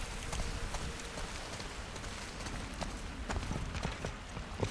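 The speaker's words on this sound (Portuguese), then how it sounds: "E a chuva lá cai." Steady rain falls in The Last of Us: Left Behind, a dense, even patter of drops with scattered sharper taps, moderately loud, with no talk.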